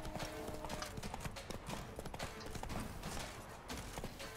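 Roach the horse gallops in The Witcher 3, its hooves pounding in a fast, continuous clip-clop rhythm that stays close and steady throughout.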